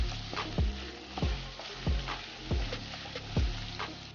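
Chicken frying in a pan for pasta sauce sizzles steadily, with rhythmic thuds and scrapes of a spatula stirring it about every half second, close and alone without talk.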